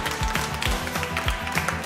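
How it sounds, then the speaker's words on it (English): A group of children clap for a girl named Daniela during an online kids' lesson, with a short burst of uneven claps and taps, close and moderately loud. "Can we clap for Daniela?"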